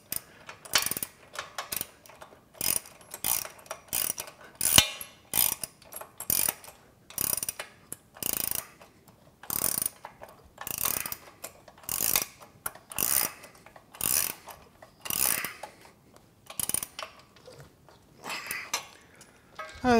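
A socket ratchet clicks in repeated bursts while bolts are tightened during assembly of a Body Solid EXM3000 home gym, the sharp ratcheting strokes coming close and steady with brief pauses between runs.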